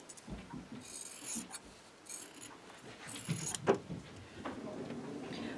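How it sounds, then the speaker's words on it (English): Fabric squares for a Maple Leaf quilt block being cut along a drawn centre line, a few faint rasping, scraping cutting strokes in short bursts with pauses between them. "We're going to cut along that centre line."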